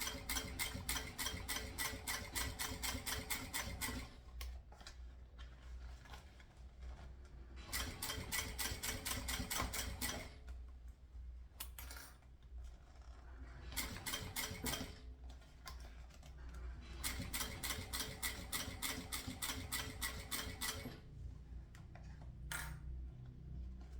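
A sewing machine runs a reverse backstitch on a crossbody bag at stitch length 3.5, in several bursts of rapid, even stitching broken by short pauses, close and loud.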